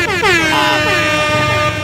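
A 2024 matte green Yamaha NMAX 155 scooter sounds its horn, a loud, steady, brassy blare lasting nearly two seconds, close and alone.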